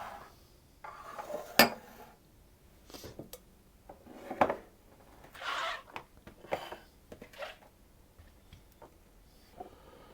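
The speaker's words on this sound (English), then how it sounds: "So I put the butter in the bowl and the sugar and just cream that together." Butter and sugar creamed by hand in a bowl for orange muffins, with scattered scraping and knocking strokes of a utensil against the bowl, fairly quiet and close, with no talking.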